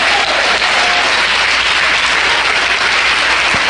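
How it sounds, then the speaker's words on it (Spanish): Sustained applause from a church congregation at a Holy Week service, many hands clapping in a thick, even roar throughout. "Dele un aplauso a Jesús"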